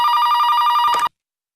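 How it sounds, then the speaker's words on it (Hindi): A telephone bell rings indoors in a household scene, a steady bright electronic trill pulsing rapidly for about a second before cutting off abruptly into silence. "अरे दरवाजे की घंटी नहीं है, फोन की घंटी बजी है।"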